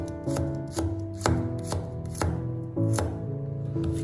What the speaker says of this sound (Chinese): 先把大蒜切成薄片